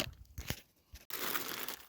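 Crinkling and tearing of a plastic zip bag packed in a solar inverter box, a few sharp rustles followed by a sustained crackling rip, close up with no talk.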